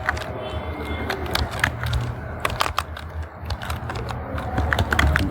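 Rapid, uneven clatter of fingers typing on a computer keyboard, close and steady throughout, with a low room hum underneath and no talk.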